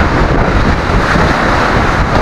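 Strong typhoon wind from Typhoon Karding in the Philippines roars and buffets loudly and continuously, a dense rushing blast close to the microphone with no pause.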